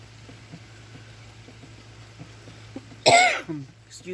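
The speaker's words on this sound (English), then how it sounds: "Excuse the coughing." A person coughs in a short loud burst with a throat-clearing rasp after a long quiet stretch of faint steady background hiss and low hum, near and alone.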